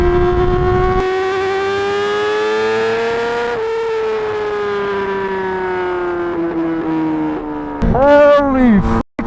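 A 2020 Yamaha R6 sport bike with straight-piped exhaust holds a loud, high-pitched rev that slowly sags, then whips through rapid sharp revs and pops near the end.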